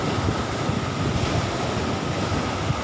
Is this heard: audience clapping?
no